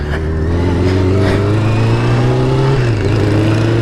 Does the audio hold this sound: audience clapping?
no